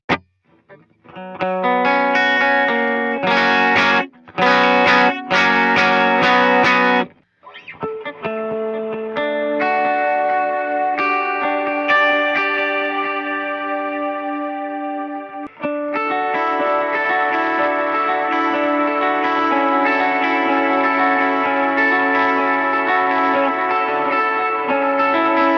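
An electric guitar runs through a Line 6 HX Stomp amp model with a short mono delay, with strummed chords, a few abrupt choked stops, then sustained ringing notes. The tone is full, bright and close, with no talking.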